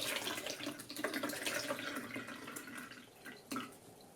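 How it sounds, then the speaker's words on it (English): Kefir is poured through a plastic sieve, giving a steady soft trickle and wet splashing that stay close and fairly quiet, with one brief louder slosh near the end. "So let's sieve it through our plastic sieve."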